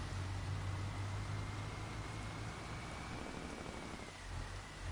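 Steady rain falls on a farm with a cornfield in Farming Simulator 25 on PS5, a dense, even hiss with a low rumble that continues throughout, no talking.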